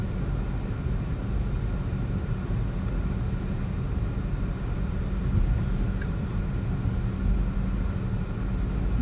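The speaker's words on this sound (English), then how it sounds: "now we can say we drove on the Walking Dead bridge" A car creeps at about five miles per hour across the leaf-covered Walking Dead bridge on Flat Shoals Road in Georgia, its steady low engine and tyre rumble continuous and close throughout, with no talking.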